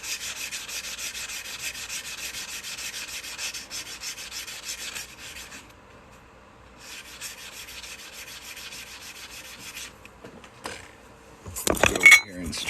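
Abrasive sanding of the cut edges of a quarter coin ring, a steady scratchy rubbing in long close strokes with a short pause midway and a few louder knocks and scrapes near the end.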